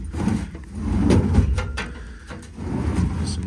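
Metal ag body drawers on a 2009 Kenworth T370 truck's 14-foot Seyller bed slide open and shut, with rough scraping and rumbling runs and a few sharp knocks, heard alone at close range.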